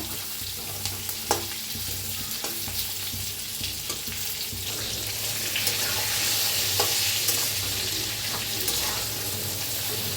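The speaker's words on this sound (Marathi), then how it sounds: "असं भाजून घेतलं की नाही खूप छान होतात तेलात." Masala and brinjal pieces frying in oil for a kharat vangi dish, giving a continuous close sizzle with occasional spoon clicks and stirring scrapes that grow a little louder toward the end.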